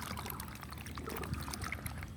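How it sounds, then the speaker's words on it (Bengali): Mangoes washed in water, giving a steady pouring and trickling splash with sloshing that stays even and close throughout, no voices. "এখন আমগুলো ভালোভাবে ধুয়ে নেওয়া হচ্ছে"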